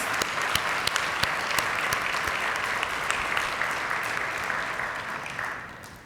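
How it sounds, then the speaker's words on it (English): An audience applauds at an award ceremony honoring funeral homes, a steady, full round of clapping that holds evenly for several seconds before thinning out toward the end. "let's give them a firm round of applause"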